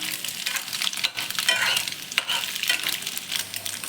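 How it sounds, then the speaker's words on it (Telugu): A cracked egg fries in oil while being stirred for egg fried rice. There is a continuous crackling sizzle with soft, uneven scraping strokes close by, and no one talks. "ఇప్పుడు మిక్స్ చేస్తున్నాము."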